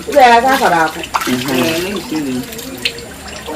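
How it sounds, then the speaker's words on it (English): Running water splashes as hands are washed during African black soap making, heard beneath a person talking. "You have to wash the hand."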